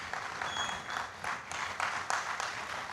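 Audience applause greeting an ambassador as she is welcomed to the stage at a formal event: steady, moderately loud clapping from a crowd, continuous across the whole stretch with some louder bursts.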